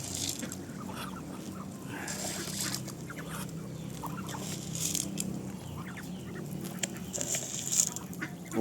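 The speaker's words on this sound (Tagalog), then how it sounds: "sobrang dami ng pato natin" A large flock of farm ducks quacking and honking at once, a dense, continuous chorus of overlapping calls close by, with no talk.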